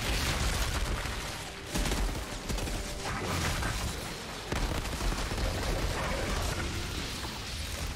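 Burst-fire assault rifle shooting in the video game Outriders: loud, dense rounds of gunfire come in surges, with brief lulls between bursts amid heavy combat noise.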